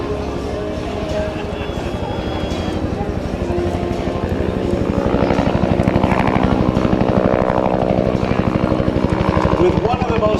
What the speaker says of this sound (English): With one of the most recognizable sounds of any aircraft, the whack, whack, whack of the rotor blades, was unmistakable